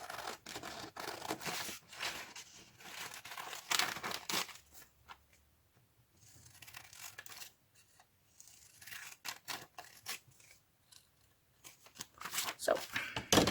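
Inking shears snip through paper in a craft session, with bursts of crisp cutting and rustling that come and go near the mic, separated by quieter pauses.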